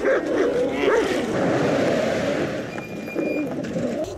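A dog in a TV drama barks and yips in a few sharp calls over a dense background of other show audio and voices, fairly loud throughout.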